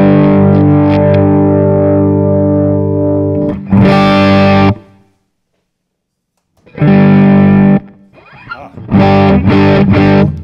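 Electric guitar through a Kemper profiler on a distorted 'Dirty' patch: loud, crunchy sustained chords ringing out, a silent gap, then more distorted chords and choppy strums, close and alone.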